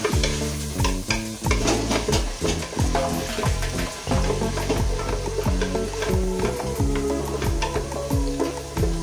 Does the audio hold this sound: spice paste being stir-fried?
yes